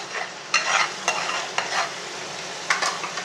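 Chicken pieces, previously fried in ghee, are stirred into a ghee masala for chicken ghee roast; a steady sizzle runs throughout, broken by several distinct scraping strokes of the spoon at irregular intervals.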